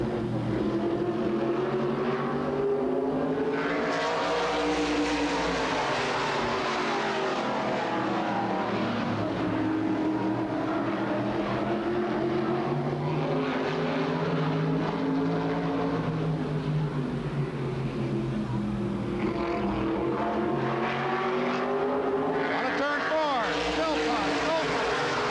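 Race cars roar around the oval at Bernal Memorial Raceway (Altamont Raceway Park), their engines droning and shifting pitch continuously as they lap, with a commentator talking over the steady engine noise throughout.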